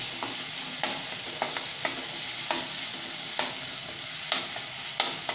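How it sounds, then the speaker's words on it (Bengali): Tomatoes frying in a pan with grated ginger added, stirred steadily; a continuous close sizzle is broken by sharp spatula scrapes and clinks against the pan every second or so. "টমেটোগুলো একটু ভাজা হয়ে গেছে, এবার আমি এর মধ্যে দিয়ে দেবো গ্রেট করে রাখা আদা"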